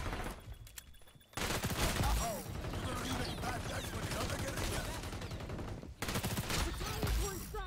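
Dense gunfire and explosive bursts from an XDefiant multiplayer match, a grenade blast among them, loud and continuous for several seconds, with a short lull before the shooting resumes near the end.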